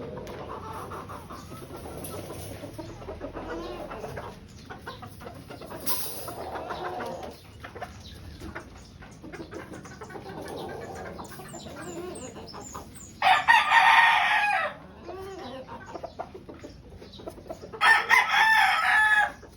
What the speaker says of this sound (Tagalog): Brood stag number 3, pure white kelso.